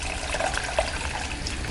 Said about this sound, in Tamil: இந்த டைமில் நம்ம ஆல்ரெடி கரைச்சி வச்சுருக்க புளி தண்ணியை ஊற்றிடலாம்.